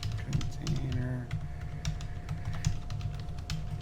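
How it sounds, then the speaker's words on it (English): Quick, steady clatter of fingers typing on a small, tiny computer keyboard, close up, with continuous light keystrokes over a low background hum. "I'm getting used to a little tiny keyboard"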